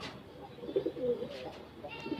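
Pigeons kept on a house rooftop give soft, low cooing calls in a few short bursts, fairly faint and close, over quiet background.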